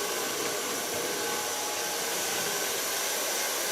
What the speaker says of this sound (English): And so I dry all our hair.